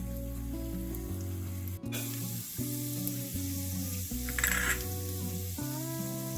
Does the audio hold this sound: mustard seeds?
yes